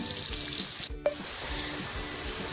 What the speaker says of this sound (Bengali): পেঁয়াজগুলো ভাজা হয়ে গেছে লাল লাল করে